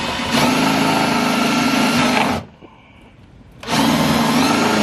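Power drill whirring steadily while driving a screw during a Honda S2000 side splitter install, loud and continuous, stopping briefly for about a second before starting again at the same pitch.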